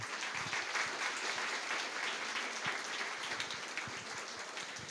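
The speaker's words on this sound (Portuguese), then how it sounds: "Por favor, palmas para Wilco." An audience at a literary festival panel in a museum gives the author Wilco a round of applause, dense steady clapping from many hands that fills the room evenly from start to finish.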